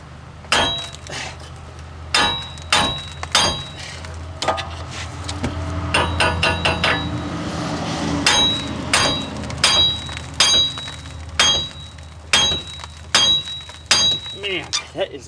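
Metal clinks and knocks of a screwdriver prying at a seized wheel bearing on a 2014 Chrysler Town and Country, irregular sharp taps close by over a low steady hum.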